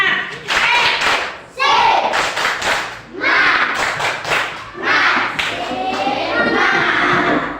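A classroom of students does a rhythmic spirit clap in a school lesson, loud clap bursts in repeated patterned groups with brief pauses, mixed with shouted voices.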